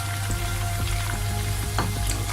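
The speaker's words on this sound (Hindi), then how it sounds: "प्याज को हम गोल्डन ब्राउन करेंगे।" Sliced onions and garlic fry in a pan while being browned for a Pakistani mixed daal, producing a steady close sizzle with scattered crackles and occasional stirring scrapes and no voices.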